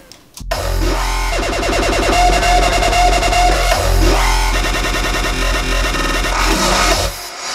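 Dense, distorted dubstep-style bass stacked with a punchy kick drum, loud and sustained for several seconds in a hard-hitting electronic track, with no talking.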